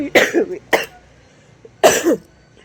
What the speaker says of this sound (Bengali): দেখেছেন কি কাশি হচ্ছে